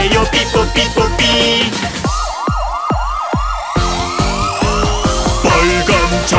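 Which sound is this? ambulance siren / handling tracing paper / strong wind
ambulance siren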